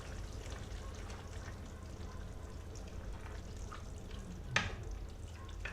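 Paprika and a glass of water being stirred into a Romanian potato moussaka in a pot, a low steady simmering hiss with a soft scrape of the spoon, and one sharper clink near the end.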